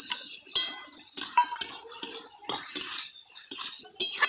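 A utensil clinks and scrapes against a cooking pot as dates are added and stirred in, making sharp metallic taps at an uneven rhythm, close and clear with no talking.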